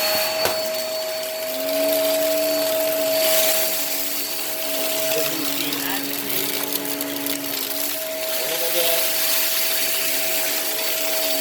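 Hoover React Pro Pet cyclonic vacuum cleaner running steadily, a loud continuous motor whine with a high steady tone that shifts slightly as it works across a mess.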